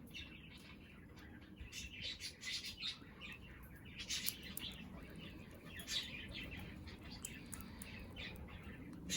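A pet large parakeet (parrot) chirping: repeated bright, rapid tweets and squawky calls in quick clusters, close and fairly loud over a soft indoor background hiss.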